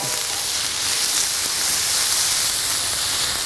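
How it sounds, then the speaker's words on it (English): Vegetables frying in a pan for vegetable fried rice, giving a steady, loud, close hiss and sizzle that carries on without a break and with no voices. "I'm going to be adding in my vegetables, all right? I'm going to fry this up."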